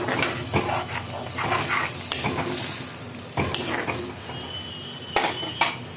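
Potato cooked with poppyseed paste being stirred in a pan, Bankura style: steady scraping and clinking of a utensil against metal in repeated strokes over a soft sizzle, close and clear, with no talk.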